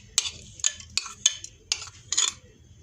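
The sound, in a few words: adding chopped onions to a pan while cooking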